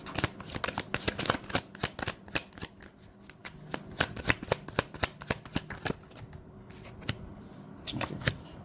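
Tarot cards being shuffled by hand make a run of sharp, crisp riffling snaps and flicks, irregular in rhythm and close up, continuing for several seconds.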